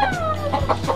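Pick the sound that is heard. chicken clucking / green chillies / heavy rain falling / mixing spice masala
chicken clucking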